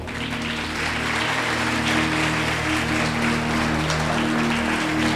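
A church congregation applauding, a sustained wash of clapping from many people over a low held organ or keyboard chord, steady and fairly loud throughout.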